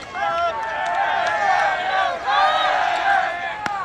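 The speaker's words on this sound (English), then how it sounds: "Crowd's trying to get into it" Spectators at a high school baseball game, Longview Lobos versus Frisco Reedy, cheer and call out in a steady crowd roar with shrill, whistling shouts rising above it.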